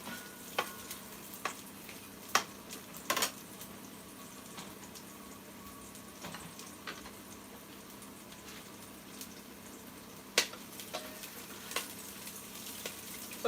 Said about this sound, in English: So we are going to stir and cook it until it begins to clump together